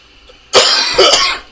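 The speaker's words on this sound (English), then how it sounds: "I don't know why I'm coughing so much" Two or three harsh coughs in quick succession, loud and close, after a moment of near silence.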